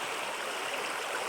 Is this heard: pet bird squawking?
no